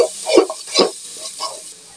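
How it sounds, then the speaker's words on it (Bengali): Ginger-garlic paste and spices are stirred into onions in a frying pan for a beef curry, giving three or four distinct scraping strokes over a light sizzle, close and fairly loud. "মশলাটা নেড়ে চেড়ে পেঁয়াজের সাথে মিশিয়ে নেব।"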